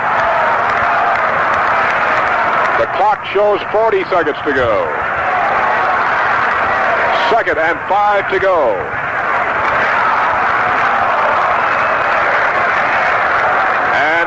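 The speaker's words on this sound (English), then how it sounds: "the Michigan crowd coming to its feet and starting to applaud" A Michigan football stadium crowd applauds and roars in a steady broad wash during the 1968 Michigan State vs Michigan game, with a radio announcer calling the play over it.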